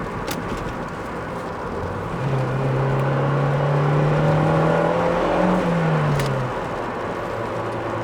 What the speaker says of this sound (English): You can definitely hear that turbo spooling up nicely there.